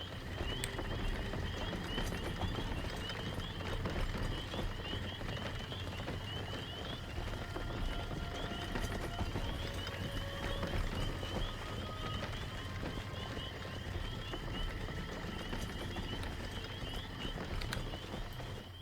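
Horse mounts clip-clopping at a slow pace on a caravan ride in World of Warcraft: Dragonflight, a steady, soft patter of hooves running under a constant bed of game ambience and music, with no talking.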